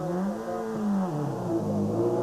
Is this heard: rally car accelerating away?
yes